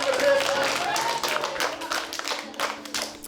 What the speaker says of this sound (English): One last round of applause for our writers and our organisers